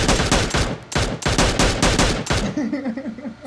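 Rapid automatic gunfire from the PUBG Mobile video game, loud close bursts of repeated shots for about two and a half seconds, then stopping as fainter tonal game sounds continue.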